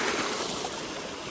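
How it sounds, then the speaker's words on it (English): Rainwater rushes down a flight of outdoor stairs during a heavy downpour, a steady, close wash of flowing water filling the whole short moment. "Look at the water coming down the stairs"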